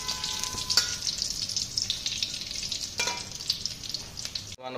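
Bright, continuous crackling sizzle of green chilies frying in hot oil for an Odia leafy greens stir-fry, close and steady, with a couple of sharper spatters before it cuts off abruptly.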